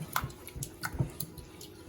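Sweet and sour sauce of vinegar, pineapple juice and sugar being stirred for Filipino-style sweet and sour pork, giving soft wet clicks and light liquid squishes in a steady, close rhythm.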